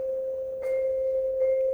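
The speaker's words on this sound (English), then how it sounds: "motor off, vibraphone sounds like this" A vibraphone bar rings with the resonator motor off, giving a steady, pure sustained tone with two soft mallet strikes, heard alone and fairly close.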